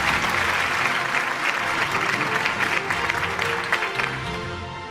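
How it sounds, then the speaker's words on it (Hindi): Sustained, dense applause from an audience at an annual media award show in a hall, loud and steady for the whole stretch, easing slightly toward the end with no talk over it. "आपकी तालियां थमनी नहीं चाहिए खातिनों हज़रात"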